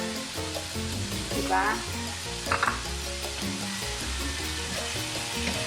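Black beans sizzle steadily as they are sautéed in a pan while cooking the Cebuano dish nilarang na isda, a constant frying hiss under light background music with a brief spoken word.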